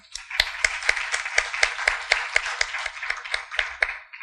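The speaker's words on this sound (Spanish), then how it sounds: "Les pido un aplauso para él, por favor" A small audience claps for a guest chef known from cooking shows, at a talk on traditional Mexican diet; a fairly close, steady patter of individual hand claps with sharp accents, moderately loud and without speech.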